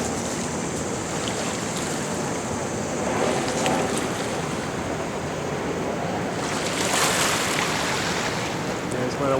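Continuous loud rushing water roars without pause, a dense churning wash that swells slightly at moments, from rapids in the Niagara Gorge below the falls.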